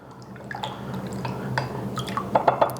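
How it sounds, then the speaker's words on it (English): A spoon stirs a brine solution in a vessel, making soft liquid swirls and a few light clinks and drips close by. "So we'll give that a nice stir till it's all dissolved."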